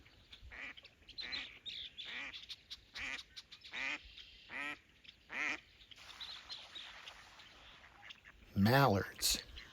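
Mallard ducks on a pond giving a series of short nasal quacks at an uneven rhythm, moderately close over quiet outdoor background, ending in a louder burst of several rapid quacks together.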